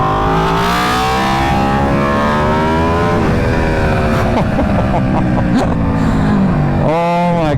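An Aprilia RSV4 motorcycle fitted with a 520 chain and sprocket rides a slow first-gear turn, its loud close engine note rising and falling in pitch with a rev surge near the end. A voice can be heard under the engine.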